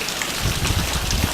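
Steady rain pours onto soaked ground outdoors, a dense, even hiss of drops that holds close and loud for the whole moment, with no voices over it.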